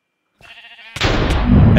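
A sheep bleats in the Minecraft TryCraft modpack: a short wavering in-game bleat, followed by a louder, dense burst of noisy game sound that fills the rest of the moment.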